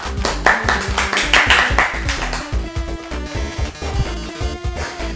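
Audience applause in the Undertale video game, a crowd of rapid hand claps mixed under music and game sounds, steady and fairly loud throughout.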